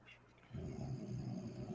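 A dog snores in a low, rumbling drone that starts after a brief quiet moment, steady and close, with faint background hiss.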